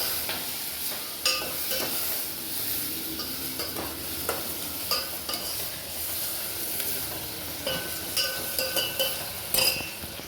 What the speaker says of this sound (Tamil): இந்த வெங்காயமும் கருவேப்பிலையும் நல்லா வதங்கட்டும்.